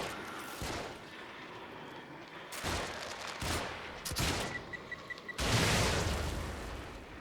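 Gunfire in the video game The Evil Within, with scattered loud shots and bursts mixed with a heavier blast, irregular and close, with game noise between the shots.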